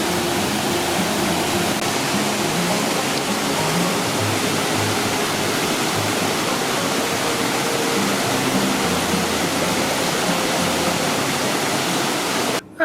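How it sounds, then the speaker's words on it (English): Waterfall on a river in Nova Scotia, a steady, loud broadband rush of falling water that fills the whole stretch and cuts off abruptly at the very end. "And there's the waterfall."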